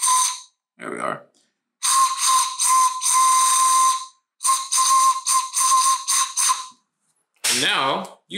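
Homemade drinking-straw pan flute blown in a run of breathy, airy toots and short bursts with pauses between them, close and fairly loud, with a brief voice near the end.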